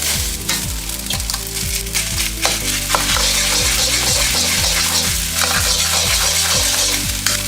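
Leftover rice and two eggs fry in a pan in a small kitchen, a loud constant sizzle broken by repeated scraping and clinking of a utensil stirring against the metal.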